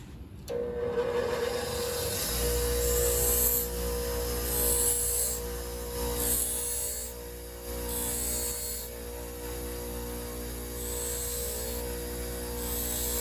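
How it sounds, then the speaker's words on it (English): A TIG tungsten electrode ground on a spinning grinding disc: a motor spins up with a steady high whine and buzz, overlaid by repeated bursts of harsh rasping contact as the electrode is moved back and forth. "kind of moving it back and forth, or else you'd grind a big groove in the disc"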